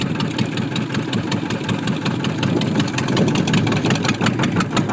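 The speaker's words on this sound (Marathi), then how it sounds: "हे बघा इंजिन चालू झालेले आहे आणि सर्वजण चाललेले आहेत" A fishing boat's engine runs steadily at sea, a continuous mid-pitched drone with a regular throbbing pulse that stays close and fairly loud throughout, with no voices over it.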